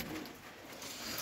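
Pigeons coo softly at a distance during a rainstorm in Kashmir, faint low calls almost lost in steady hiss of rain and wind.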